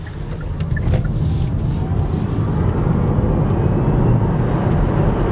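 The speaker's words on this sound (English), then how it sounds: "Acceleration hard, up to 60." Kia e-Niro electric car accelerating hard up to 60, a steady loud rush of road and wind noise with a faint rising whine, heard from inside the cabin with no talk.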